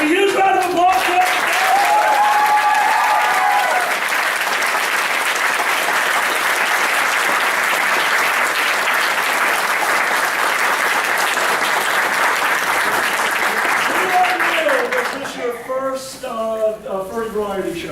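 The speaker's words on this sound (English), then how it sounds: "give me a huge round of applause" Loud, sustained applause from a large crowd at a furry variety show, dense clapping filling most of the stretch before fading as voices come in near the end.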